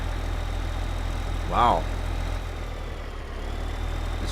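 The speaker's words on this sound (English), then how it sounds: "Tractor's having a hard time pulling this little bit of grain here." A tractor engine drones at a steady low pitch while pulling a load of grain in Farming Simulator 2015, a constant mechanical hum with one brief spoken exclamation from a man partway through.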